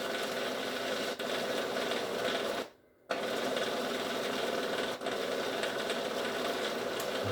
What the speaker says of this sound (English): Pulse, pulse. Cheese is getting all blended in there.